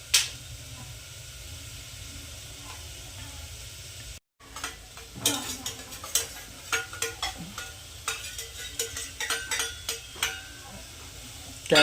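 A spoon stirs an onion and rice mixture in a pan for Sunday pav bhaji, giving repeated close scraping strokes over a steady sizzle, with one brief break.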